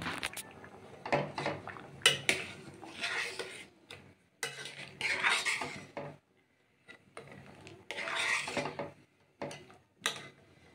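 Fish curry with dal being stirred in a metal pot, a spoon scraping and clattering against the sides in uneven bursts separated by short pauses, close up and fairly quiet, with no talk.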